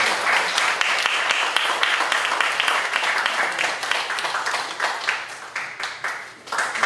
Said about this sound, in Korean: 다 같이 크게 박수로 환영해 주시기 바랍니다